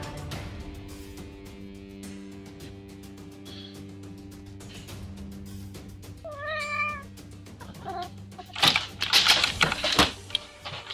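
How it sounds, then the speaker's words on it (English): A cat lets out a single rising meow near the middle, amid steady tapping and clicking noises and a low background hum, with no one speaking. "And the cat decided to go wild."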